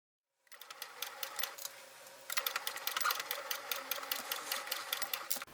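A domestic sewing machine stitching a pouch of clear crystal PVC and lace, its fast rhythmic needle chatter starting abruptly, running steadily, then speeding up into a louder, quicker whir close by.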